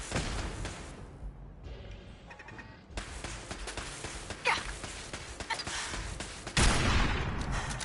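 Gunfire aimed at a turret in the video game Fallout 4, heard as dense, noisy bursts of shots running through the clip, with a louder stretch near the end.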